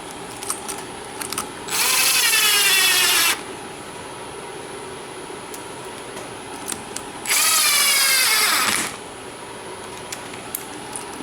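A power tool runs bolts coated with blue Loctite into a Yamaha Banshee clutch and kicker assembly in two loud, close bursts of about a second and a half each, with quiet pauses between.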